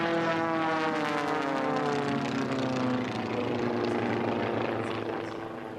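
Racing airplanes with Continental O-200 engines roar past a pylon at an air race championship, a loud, steady propeller drone that dips in pitch as it passes and fades slightly at the end.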